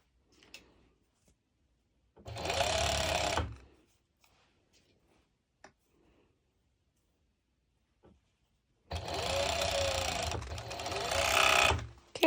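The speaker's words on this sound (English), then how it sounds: "I've serged the sides and the crotch area" A serger sews the side and crotch seams of pole dance bottoms in two whirring bursts, a short one and a longer one, with quiet handling clicks in the pauses between.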